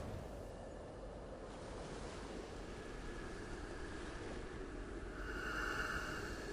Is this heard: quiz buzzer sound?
no